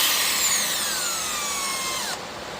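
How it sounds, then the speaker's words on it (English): Power drill boring holes into a Kawasaki SXi Pro jet ski hull while fitting hull extensions in a garage, a steady loud whine with a falling pitch that cuts off sharply near the end. "So you drill your first one,"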